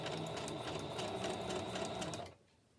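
A sewing machine stitches a short zigzag on journal pages, a fast, steady, close mechanical whirr with a rapid repeating needle rhythm that stops abruptly near the end, leaving quiet.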